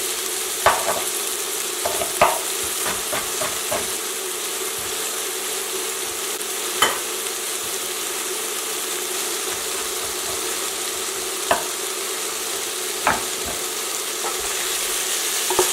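Beef frying in a pan for Filipino-style beef stroganoff: a steady sizzle runs throughout, broken by intermittent scraping clicks of a utensil turning the meat, clustered early and scattered later.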